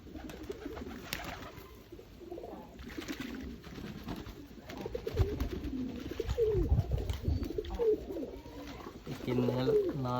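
Domestic pigeons bathing in Sri Lanka, soft repeated cooing mixed with splashing and fluttering, close and fairly quiet, with voices talking in the background.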